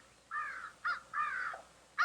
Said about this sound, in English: I sure didn't like the cawing of those pesky crows.